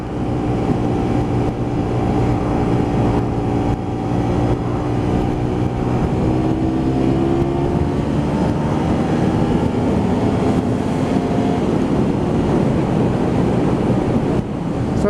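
A Honda VTR250 motorcycle accelerates from a standstill toward 100, its engine note rising steadily through the gears under heavy wind rush against the microphone, loud and continuous throughout.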